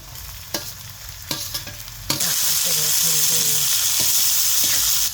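Tomato going into well-roasted, softened onion in a hot pan for a Kolhapuri-style tomato-onion dish: a few scrapes and clatters of stirring, then a sudden loud, steady sizzle that holds close and continuous to the end.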